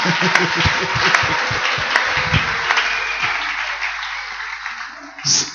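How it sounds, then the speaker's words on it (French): Church congregation applauding during a French-language service, loud dense clapping filling the room for several seconds, with a brief louder sound near the end. "Applaudissons fort du Seigneur."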